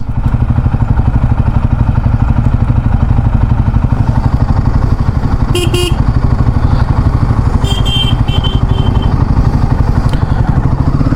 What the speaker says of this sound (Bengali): তো আমরাও বাইক ছাড়বো এবার